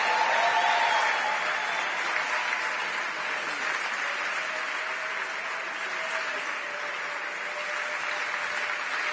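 Sustained applause from a church congregation greets an evangelist, steady dense clapping filling the room at an even level throughout, with a faint tone and crowd murmur beneath.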